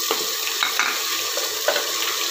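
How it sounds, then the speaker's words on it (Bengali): Ginger garlic paste with green chillies fries in a pan for mutton egg biryani, a close, bright sizzle broken by several quick stirring scrapes. "আদা রসুনটা কিছুক্ষণ ভেজে নেব ভালো করে"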